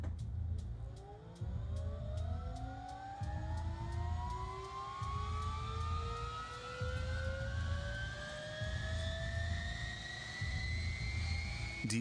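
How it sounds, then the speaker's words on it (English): Turbine engines on a German military helicopter starting up, with a steady whine that climbs in pitch as the engines spool, plus a regular ticking pulse. The sound is loud and close, with no talking. "The pilots start the turbines and go through their checklists."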